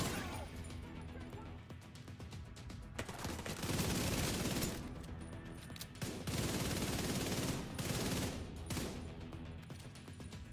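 Sustained volleys of video game gunfire in a PvE shooter, dense bursts swelling and easing over the whole stretch, loud and close with no gaps of quiet.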